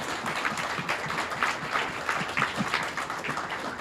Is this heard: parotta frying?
no